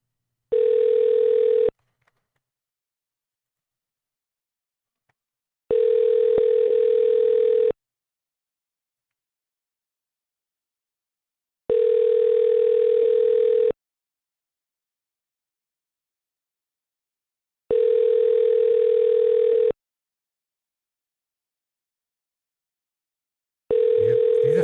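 Outgoing telephone call to a scammer's number ringing unanswered: five steady ringback tones, each about two seconds long, separated by roughly four-second silences, clear and alone with no voices.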